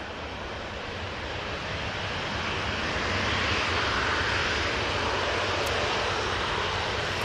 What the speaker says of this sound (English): A321neo now on the roll